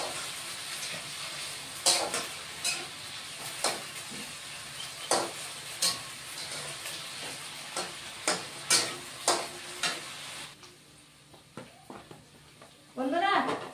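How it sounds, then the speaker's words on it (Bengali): Yardlong beans fry in a pan with a steady sizzle, broken by sharp, irregular scrapes and knocks of stirring. The frying quiets toward the end before a brief louder burst. "বটবটিটা আগে ভেজে নিলে ভালো হয়"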